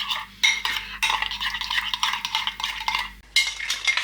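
A tomato-based Moroccan chicken marinade is mixed in a bowl, giving close, continuous scraping and stirring clatter with a few sharper knocks of utensil against the bowl, and no voices.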